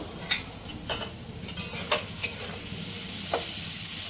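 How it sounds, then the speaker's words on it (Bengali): Spicy semolina (suji) with potatoes being stirred in a pan, with soft scraping strokes at irregular intervals over a steady low sizzle of frying, close and fairly quiet, with no voices. "দু মিনিট হয়ে গেছে, ঢাকনা খুলে নেড়ে নেবো।"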